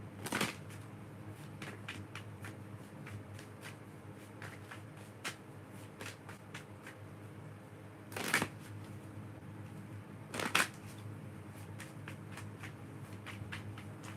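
A deck of cards being shuffled, a soft steady riffling patter with a few louder snaps of the cards, close and quiet with no talk.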